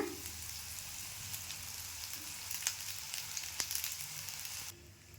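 Cooked rice is added to scrambled eggs and stir-fried in a hot pan for egg rice, giving a steady, close sizzle with faint scraping and stirring that cuts off abruptly at the end.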